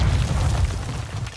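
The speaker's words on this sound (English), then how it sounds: "Stun grenade!" A stun grenade detonates in the Call of Duty MW3 video game, a loud low boom that rumbles and rings on for over a second, with no talk.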